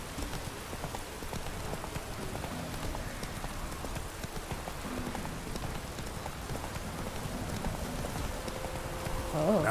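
Geralt's horse Roach in The Witcher 3 trots with a steady clip-clop of hooves, close, under a constant wash of rain.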